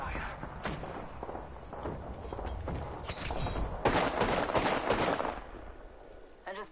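Gunfire in the Apex Legends video game, with rapid shots and blasts rising to dense bursts over ongoing game noise, and a faint voice now and then.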